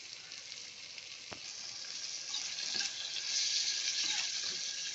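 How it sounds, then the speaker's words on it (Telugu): Tomatoes tipped into hot oil for a drumstick and tomato curry give a soft, steady sizzle that swells slightly midway, faint and close, with no talking. "ఇప్పుడు టమాటాలు వేసుకుందాం"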